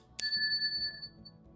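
Small counter bell, the kind used for dog potty training, struck once with a bright ding that rings on and fades slowly over about a second.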